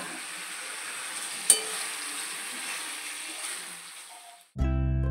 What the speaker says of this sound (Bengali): আর এরপর যে আলু আর পটলটা আমি ভেজে রেখেছি, সেটা দিয়ে একটুকু নাড়াচাড়া করে নেব।